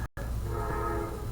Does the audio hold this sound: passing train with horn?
yes